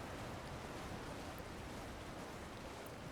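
Steady, dense rushing of a waterfall in Elden Ring Shadow of the Erdtree, a constant broadband wash of falling water that holds level throughout with no voices.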